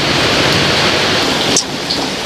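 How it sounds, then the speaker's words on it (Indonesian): Heavy rain pours down in a dense, steady hiss that stays loud and constant, dipping slightly for a moment partway through, with no voices. "Tuh hujan Bor, banyak banget hujannya lagi."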